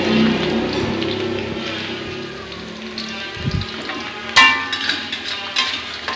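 Food sizzling and spattering in hot oil in a pan, a steady loud crackle with occasional sharper pops and stirring scrapes, close by.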